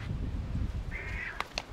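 A bird, crow-like, gives short harsh calls while being handed a whole bluefish during Florida inshore fishing, two brief cries near the end over steady low outdoor rumble and wind.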